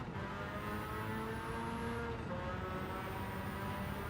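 Race car engine in a racing video game screaming at a steady high pitch near the rev limit, loud and continuous throughout without a break.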